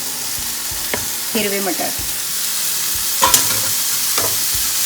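Roasted eggplant mixture with green peas stirred in a pan over low gas, a steady frying hiss with scraping spoon strokes at intervals, and a brief spoken remark.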